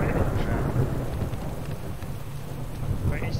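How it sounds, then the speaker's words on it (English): Rain pours in a survival video game world while thunder rumbles low and heavy underneath, the downpour steady and close with a rolling boom fading through. "It's a bit raining."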